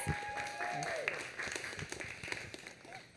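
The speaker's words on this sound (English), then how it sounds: "please give a round of applause one more again for Catherine T. Morris" An audience at a Boston poetry reading claps for Catherine T. Morris, a moderate round of applause under a sustained tone and some overlapping voices.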